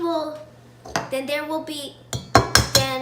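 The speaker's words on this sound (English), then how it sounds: "So crack it open and drop it in." Eggs cracked and dropped into a bowl in a home kitchen give sharp clinks and taps against the dishes, heard under an ongoing voice.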